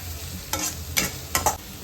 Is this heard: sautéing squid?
yes